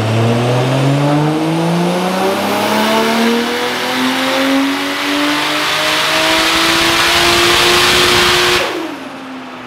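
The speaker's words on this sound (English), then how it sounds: "The red FC RX7 with the 1J," Mazda FC RX-7 street car with a swapped Toyota 1JZ engine revs hard and climbs steadily in pitch, loud and close, with a possible brief tire squeal before the engine cuts off sharply near the end.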